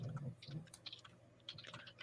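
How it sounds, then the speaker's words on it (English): Someone types on a computer keyboard in quick, uneven bursts of close clicks, with brief pauses between runs of keystrokes. "I'm typing while I'm speaking"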